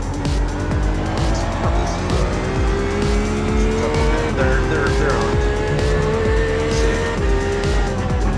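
GT3 race cars in a sim racing game, engines roaring continuously at high revs with rising and falling pitch as cars pass, loud and close, with tire squeal and a commentator talking over them.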